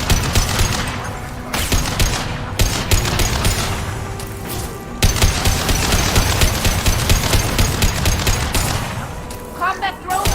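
Sustained rapid gunfire in Mass Effect Legendary Edition combat, dense bursts of shots and weapon fire continuing throughout with a brief lull midway, loud and close, with voices calling out over the fighting.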